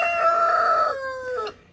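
Brahma rooster crowing at close range, a single loud drawn-out crow with strong harmonics that trails off into a falling final note.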